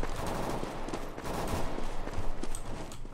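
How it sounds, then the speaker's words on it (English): Rapid bursts of gunfire from a Counter-Strike survival games mod, dense overlapping shots crackling close and loud for a few seconds without pause. "They're both shooting each other."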